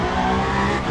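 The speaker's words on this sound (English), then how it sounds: "we brake very hard into turn 8" A race car in Le Mans Ultimate brakes hard into a corner at Bahrain, its loud engine roar steady and close, filling the whole moment with no voices.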